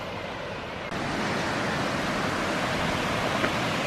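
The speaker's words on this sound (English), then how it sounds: "watching the water flood over the weir and down to the turbine station." River water floods steadily over a weir toward a turbine station, a loud, continuous broadband rush that thickens slightly after the first second, with no voices.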